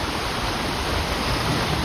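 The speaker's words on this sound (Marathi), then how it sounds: "हा मित्रांनो पावसाचं पाणी हो का कसा आवाज येतोय नुसता" Rainwater flooding down a village stream after unseasonal rain, a loud, steady broadband rush of fast-flowing water that fills the whole clip without letting up.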